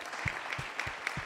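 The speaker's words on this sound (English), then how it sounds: "Give me a round of applause for that idea." Audience members applaud at a talk on American higher education, giving a faint, distant smattering of clapping with a few sharper claps that recur at a loose steady pace.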